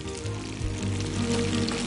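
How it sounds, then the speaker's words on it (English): Pre-roasted Brussels sprouts sizzle in hot bacon fat in a pan, giving a steady, close hiss and crackle with no voices. "Listen to it sizzle."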